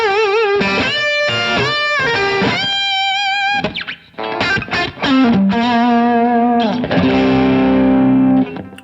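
A distorted electric guitar with a Seymour Duncan Little '59 bridge pickup, set to single coil and run through effects, plays sustained notes and chords with pitch bends and heavy harmonics, loud and alone.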